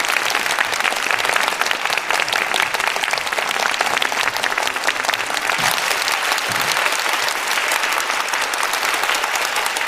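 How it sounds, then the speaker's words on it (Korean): Warm, sustained applause from a large crowd of staff at a provincial year-end employee gathering and awards ceremony, an even, continuous patter of many hands clapping throughout with no speech over it. "다시 한 번 뜨거운 박수 부탁드립니다"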